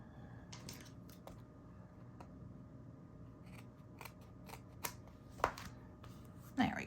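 Scissors trimming paper while making a mini album craft, a series of sharp crisp snips spread unevenly over several seconds, close up in a quiet room with faint low hum.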